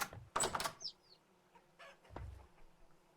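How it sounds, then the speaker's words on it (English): A chick in a video game lets out short high chirps amid clucking fowl sounds, brief bursts separated by quiet gaps, with a low thump near the end. "Because I swear I heard 2 distinct chirps."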